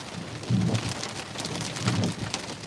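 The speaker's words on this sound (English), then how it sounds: "it's raining heavily out" Heavy rain pours steadily during a live storm chase, a continuous hiss of drops on the vehicle with low thumps from the windshield wiper sweeping at intervals.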